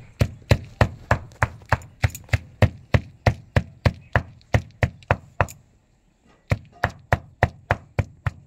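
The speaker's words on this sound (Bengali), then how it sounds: "সেগুলো শিলনোড়ায় থেঁতো করে নেব।" Six dried red chillies are pounded on a shil-nora grinding stone, a loud, close series of regular thuds about three per second, pausing for a second before the strikes resume.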